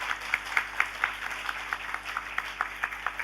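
An audience at a Women's Day celebration claps rhythmically in unison, steady evenly spaced claps at moderate volume over a faint background hum.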